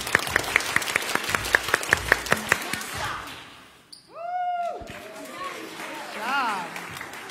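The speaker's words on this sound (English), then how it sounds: "Everybody clap your hands." A congregation at a church Vacation Bible School service claps hands in a steady unison beat, roughly a dozen sharp claps, before a voice takes over and speaks.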